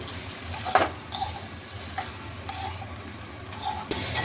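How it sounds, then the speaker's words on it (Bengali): Fried bitter gourd stir-fried with cooked spices in a pan, a low continuous sizzle under periodic scraping and clinking strokes of a spoon roughly every half second to second, close and moderately loud. "এখন আমি এখানে ভেজে রাখা উচ্ছেটা দিয়ে দিলাম। এটা দিয়ে আর কিছুক্ষণ একটু ভাজা ভাজা করে নিচ্ছি।"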